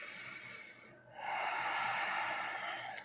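Deep breaths during a slow, restorative bedtime yin yoga stretch, heard close as one long, audible airy breath after a brief pause, with no talk.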